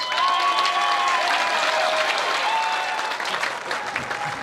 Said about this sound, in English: Let's give a big round of applause for Leo Paris!